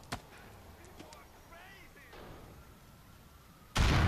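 A sharp explosion in Grand Theft Auto IV erupts near the end after a short crack at the start, loud and close, with quiet game ambience between.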